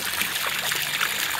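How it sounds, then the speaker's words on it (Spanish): Clean water pours into a tilapia pond in a steady, close splashing trickle that fills the short moment alone, without talking. "Pues ya se está comenzando a llenar con agua limpia."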